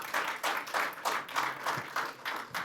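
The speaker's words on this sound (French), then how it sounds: "on vous applaudit" An audience applauds at the close of a public health debate, with steady clapping that swells in regular pulses, moderately loud and without voices.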